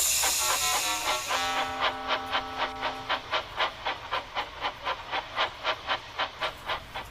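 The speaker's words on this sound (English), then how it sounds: "Gordon popped by and wheezed steam at him." A steam locomotive lets out a loud hiss of steam, then settles into a steady run of rhythmic chuffs, evenly spaced puffs repeating close by in an animated railway story.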